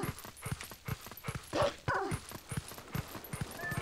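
A wolf-dog character in Zelda Twilight Princess HD pants and yips in quick rhythmic bursts, with soft whimpers and short barks scattered through, fairly quiet and with no talking.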